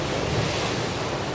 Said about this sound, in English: The waves are crashing, there's a bit of wind